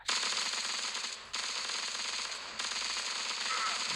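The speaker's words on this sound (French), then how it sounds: "C'est quoi cette mitraillette chelou" An odd-sounding machine gun fires in a video game, a loud, rapid, continuous burst that halts briefly twice and then resumes.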